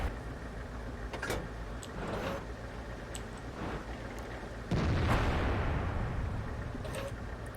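Tank cannon shots in World of Tanks from an FCM 36 Pak 40 loading high-explosive rounds: several booming blasts spaced apart, the loudest near the end, with low rumbling decay between them.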